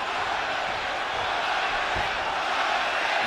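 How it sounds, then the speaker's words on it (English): Lively crowd noise fills a nearly full boxing arena at the start of round one of a 2014 pro fight, a steady dense roar of many voices, with no single voice standing out. "Crowd is lively. Arena seems pretty close to full."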